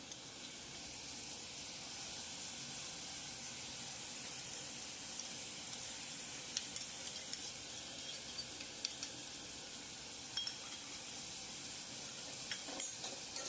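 Onion and tomato frying in a pan on a gas flame with salt added, a quiet steady sizzle and hiss with occasional light taps and clicks of a spoon, faint and continuous.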